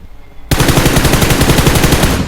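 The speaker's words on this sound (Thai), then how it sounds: "ยิงดักไว้ครับ" Machine gun fire in the PUBG Mobile video game, which starts after a brief quiet half-second and then becomes loud, rapid automatic bursts that stay dense and sustained until the end.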